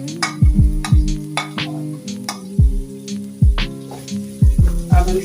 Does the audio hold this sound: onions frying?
yes